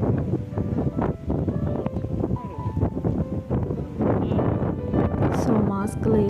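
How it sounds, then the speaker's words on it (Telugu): Strong wind blows outdoors at Sanghi Temple in Hyderabad, a steady loud rush buffeting the microphone throughout, with faint voices mixed in. "ఫుల్ గాలి ఉంది"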